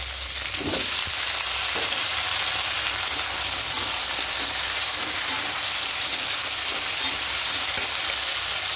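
Vegetables sizzle steadily in a hot pan, a dense even frying hiss with a few soft stirring knocks near the start, close up and with no voices.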